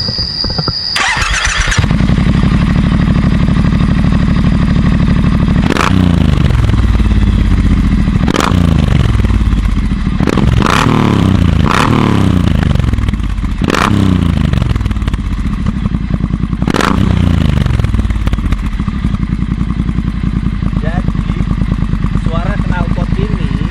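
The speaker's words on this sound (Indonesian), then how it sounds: "bagian paling nyenengin adalah dengerin suara knalpotnya, si Vance & Hines ini." A Triumph Bonneville T120 Black Edition motorcycle fitted with a Vance & Hines exhaust revs hard in a series of about six sharp throttle blips over a steady loud idle, close to the microphone.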